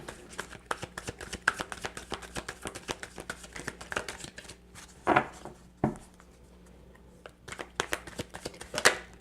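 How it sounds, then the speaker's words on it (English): Tarot cards are shuffled by hand in a run of rapid riffling flicks, with a few louder slaps and bursts, close and fairly quiet. "Can't shuffle the cards properly on the table anyway"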